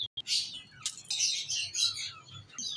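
Pet zebra finches chirp close by in a quick series of bright, nasal tweets and short calls, rising and falling with no pauses longer than a moment.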